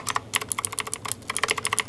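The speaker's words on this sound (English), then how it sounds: "This is the green switch, by the way. Tactile and clicky is what they call it." Fast typing on a Razer BlackWidow V3 Tenkeyless keyboard with green tactile clicky switches, a dense run of sharp, bright key clicks up close, loud and uneven in rhythm, with no voices.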